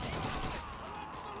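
British machine gun fire in Call of Duty 2, a dense, loud burst of rapid shots that blur into one harsh roar, dropping slightly in strength after the first half second.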